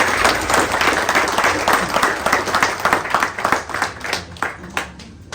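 Crowd applause at a church novena for San Nicolás de Bari, steady clapping from many hands filling the space for several seconds, loud and close, with no speech over it.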